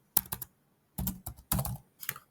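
Keys on a computer keyboard clack in short quick clusters with brief pauses between them, close and crisp in an otherwise quiet room.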